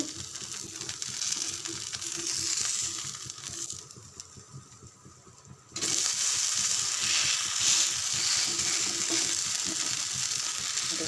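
A ragi rava dosa fries in oil on a hot pan with a steady close sizzle. The sound drops away briefly midway, then returns louder and continues. No one talks.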